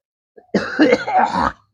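A person coughing in a domestic comedy scene, a short burst of rough, throaty coughs lasting about a second, close and fairly loud, with a possible throat clear mixed in and no speech.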